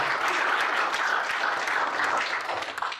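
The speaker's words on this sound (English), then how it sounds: "give her a clap" Audience applause for a panel speaker at a business scale-up conference: a dense, sustained burst of clapping from a sizeable crowd, holding steady before starting to fade near the end.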